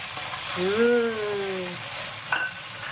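Capers tossed into hot oil in a frying pan for spaghetti alla puttanesca, giving a steady close sizzle and frying crackle under a brief tonal whine, with a small clink near the end.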